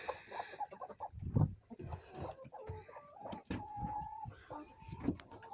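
Chickens and hens cluck and squawk in a dark yard, with soft, scattered calls rising over faint background noise while a person talks nearby.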